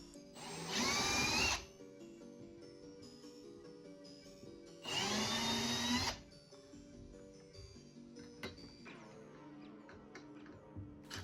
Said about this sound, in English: Using a smaller drill bit, the pilot holes are made for the screws.